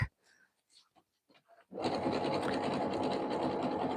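After some quiet rustling and handling, a sewing machine starts up close and runs continuously at speed, a dense steady whir while stitching jelly roll rug strips.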